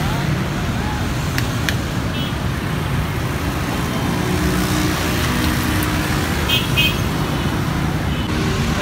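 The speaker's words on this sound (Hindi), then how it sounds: "अभी ट्रैफिक का बहुत ज़्यादा शोर आ रहा है" Heavy road traffic in a city street, a continuous dense rumble of engines and passing vehicles with a few faint horn toots, loud and steady throughout, with some background voices.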